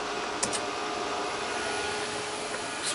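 A CNC machine's spindle motor, driven by a VFD with ground problems, spins steadily with a constant, loud, noisy whirring hum and faint tonal whine, plus a couple of tiny clicks early on.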